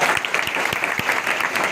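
Dense audience applause at an award and recognition event in Agra, steady and fairly loud throughout, with a few sharper claps standing out and no voices over it.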